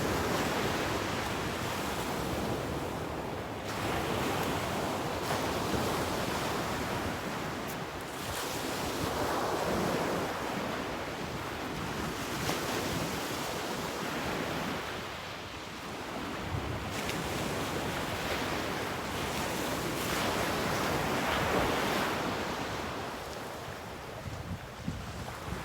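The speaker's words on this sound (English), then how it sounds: "soak in the sounds of those waves and the colors" Ocean surf rolls in and breaks along the shore in long swelling washes, with a constant roar and some wind buffeting the microphone.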